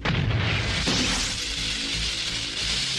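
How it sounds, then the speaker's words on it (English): A factory explodes in the animated Patlabor film, a loud roaring boom and crash that settles into a sustained rumbling, debris-filled roar. "And so the factory is destroyed."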